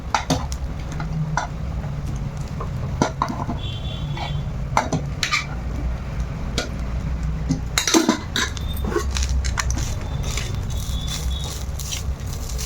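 Rice and grated coconut mixed in a metal pot, a spoon scraping and clinking against the sides in irregular close knocks over a low background hum, with no talk.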